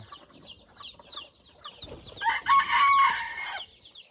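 Young red junglefowl, roughly three months old, giving soft clucks and calls before breaking into a loud, close crow in the second half, outdoors with no talking.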